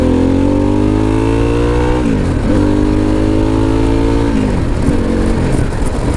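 A Harley-Davidson Pan America motorcycle fitted with a homemade baffled exhaust revs and accelerates, loud and close, with rising engine tones that drop sharply at gear changes before climbing again.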